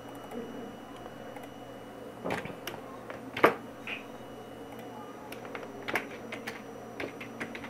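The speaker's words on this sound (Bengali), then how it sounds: "বন্দনা হালদার, এখানে লিখছি SARABIJANA" Computer keyboard typing while entering data into an MS Excel 2016 spreadsheet: sparse, irregular keystrokes and clicks, fairly faint, over a low steady room hum.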